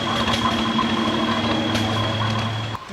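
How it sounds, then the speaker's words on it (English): Vintage oil pull tractor engine rumbling at a vintage tractor and engine show in Lynden, Washington, a steady low droning idle with tonal hum, fairly close and continuous before dropping off at the end. "In the background, you can hear a big rumbling oil pull firing up there."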